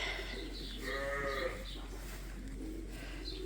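One sheep or lamb on a farm gives a single clear, close bleat, followed by fainter animal sounds over a steady low hum.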